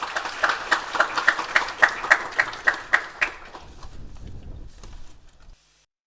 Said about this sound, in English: Please give her a very warm round of applause.